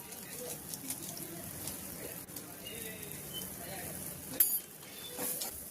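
A potato and pea samosa filling being stirred in a pan, soft continuous scraping and shuffling of the mix under a faint sizzle, with a couple of sharper utensil knocks toward the end.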